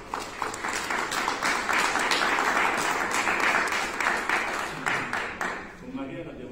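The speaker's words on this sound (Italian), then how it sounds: "vorrei un applauso per Mariella." Applause at a press conference presenting a jazz festival, a steady burst of clapping from a modest group that thins toward the end as a voice begins speaking.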